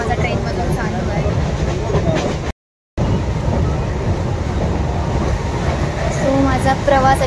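A moving local train between Thane and Kalyan gives off a steady, loud rumble and rattle from inside the carriage, with a voice talking over it and a brief dropout partway through.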